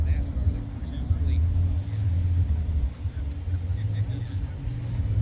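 A 1970 Plymouth Road Runner big-block V8 idles at a car show, a deep steady rumble close by under a continuous low drone; nobody talks.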